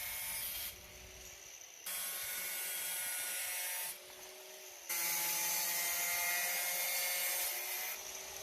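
An angle grinder fitted with a thin cutoff blade works on a cat food bowl, its steady high whine running loud and continuous with brief drops in pitch and level as the blade eases off and bites again.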